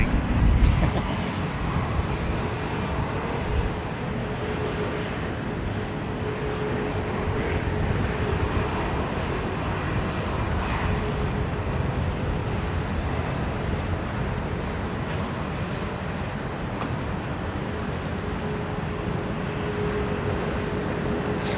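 Jet aircraft engines at London Heathrow Airport give a sustained, broad roar that stays steady and fairly loud throughout, with wind buffeting the microphone now and then.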